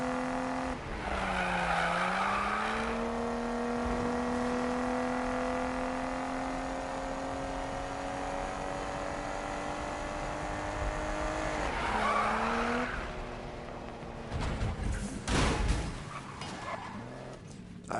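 Car drifting in a PS4 racing game: a loud, sustained engine drone that dips and climbs through corners, with tire squeal bursts near the start and end and scraping skids at the close.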